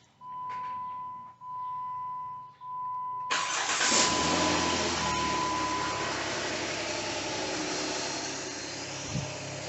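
Car engine started after a coolant temperature sensor replacement: three strained cranking bursts with a steady warning tone, then the engine catches and settles into a loud, close idle that continues.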